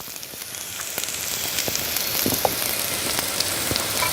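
Alexanders and wild garlic fry in a pan, giving a steady, close sizzle with scattered small crackles and pops that builds slightly louder over a few seconds.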